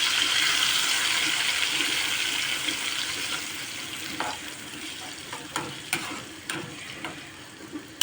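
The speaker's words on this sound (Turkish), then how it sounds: "Ve domates sosunu koyuyorum." Tomato sauce poured into a hot pan while cooking menemen: steady sizzling and frying hiss, with stirring scrapes and small clatters growing more frequent toward the end.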